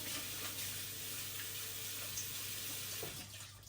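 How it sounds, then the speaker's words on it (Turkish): Running water pours steadily while rice is washed by hand in a home kitchen sink, a continuous close wash of splashing with faint rustling of grains, no talk over it. "Ve bu şekilde pirinçlerimi yıkıyorum."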